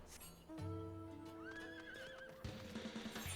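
A horse in Final Fantasy XIV gives a long, loud whinny with a rising and falling pitch, over in-game music and hoofbeats, without talk.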